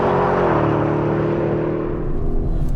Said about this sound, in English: When the engine comes on the boil, it kicks pretty hard.